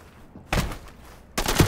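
Enemies fire at the player in a SWAT tactical shooter: two short bursts of gunfire, each a loud, ragged volley of rapid shots, separated by a brief quiet gap.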